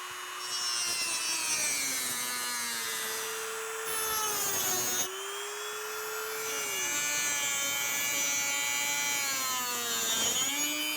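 A saw cuts steadily through brass pieces nearby, giving a continuous high, ringing whine whose pitch wavers as the blade moves, with no talking.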